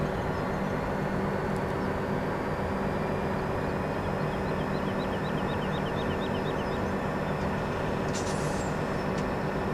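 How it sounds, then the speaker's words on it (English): A train rumbles along steadily in Farming Simulator 17, a dense continuous engine and rail drone with a faint rhythmic clatter, loud and unbroken throughout with no talk. "But now we can drive the train."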